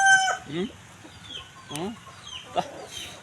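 Farmyard chickens cluck in short bursts while a rooster crows, several calls spread over a few seconds at moderate distance, with faint background noise.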